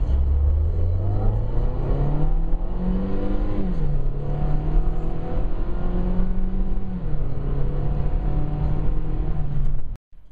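Mazda MPV Turbo with a four-speed automatic accelerating hard from 0 to 100 km/h, engine droning loud and rising in pitch, dipping at gear changes, heard from inside the cabin for about ten seconds.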